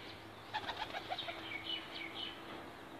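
Breeder pigeons in a loft make soft, quiet coos and brief chirps, mixed with a few light flutters of wings, all faint and close with no talking.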